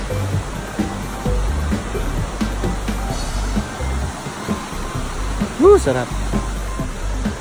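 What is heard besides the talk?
free-flowing river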